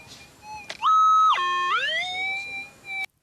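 Electronic tones from a gold metal detector, an SDC 2300 or 5000, signalling over ground being searched: loud, clear warbling and sliding pitched beeps that rise and hold, alone and close, ending abruptly.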